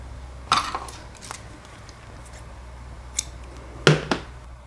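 Scissors trimming the edge of a journal covered in yarn, heard as a few sharp, close snips and clicks spaced irregularly over quiet room noise, with no speech.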